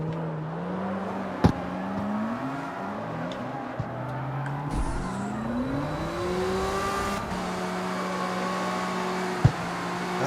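A car engine in the CarX Street racing game holds a steady, sustained drone and rises in pitch as it revs. A couple of sharp clicks cut in, with no talk.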